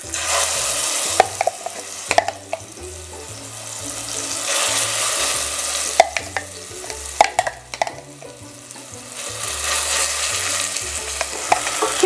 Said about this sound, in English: Do ensure that the oil is hot, and then we're going to transfer the rempah directly into it